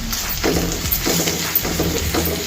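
Ivy gourd fry is stirred in a pan with chili powder and coriander powder on low heat. Repeated scraping strokes run over a steady close sizzle, with no talking.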